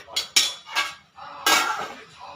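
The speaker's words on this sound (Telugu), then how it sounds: "ఇలా కలుపుకొని మూత పెట్టేసుకోవాలి" Mutton biryani being mixed in a metal pot, several sharp scraping and clanking bursts ending in a louder clatter as the lid goes on, close and without talk.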